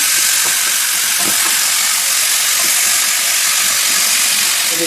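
Chopped small hot capsicum hitting a hot pan for Maharashtrian zunka, a loud, dense, steady hiss of sizzling oil with a few faint knocks underneath, no talking.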